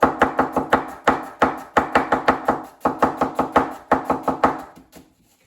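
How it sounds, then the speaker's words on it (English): A knife slicing an onion thinly on a board, a close, crisp series of rapid evenly spaced chops in quick runs with brief pauses between, ending in silence. "I'm going to slice her nice and thin first."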